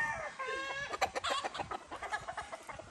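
Chickens at a small farm coop clucking in rapid overlapping bursts, close and clear, with no talking.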